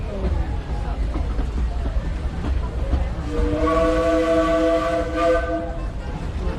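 The Disneyland Railroad steam train rolling along its rails, with a steady rumble of wheels and a whistle sounding clearly near the end, while a voice speaks over it.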